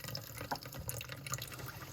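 A kitchen sink tap in a cluttered hoarder house runs water into a full basin, a close, steady splashing flow with small drips and gurgles throughout.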